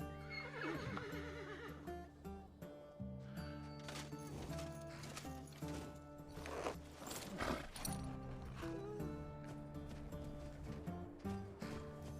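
A horse whinnies in Skyrim over a continuous bed of music, with a few hoof clip-clops and game sound effects.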